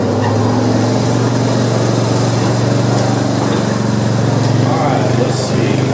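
John Deere lawn tractor engine running loud and steady with a constant low drone and high whine throughout, close by, without clear pauses.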